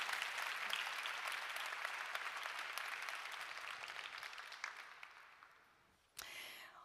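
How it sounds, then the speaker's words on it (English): Conference audience applauding plenary speakers at the Europe, let's cooperate! 2024 event: a steady wash of clapping that gradually thins and fades, ending with a brief, sharp noise. "big applause to my plenary speakers"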